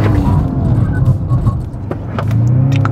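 BMW M4 CS accelerating hard, its engine note rumbling and climbing in pitch as revs build, loud and close from inside the car, with no talk over it.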